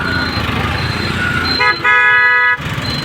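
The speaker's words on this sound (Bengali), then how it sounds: "আমরা রূপপুর মোড় ক্রস করছি এখন, অনেক জ্যাম আজকে" Road traffic crawls through a jammed junction at Rooppur crossroads, with engine rumble and a loud sustained car horn blaring near the end, over a busy roadway background.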